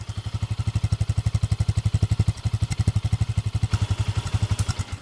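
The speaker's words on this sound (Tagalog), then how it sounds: "ito yung sound check ng stock pipe. Ito naman yung idle." A Honda Sniper 150 motorcycle with its stock exhaust pipe idles close by, a loud rapid steady putter of evenly spaced exhaust pulses with no talking.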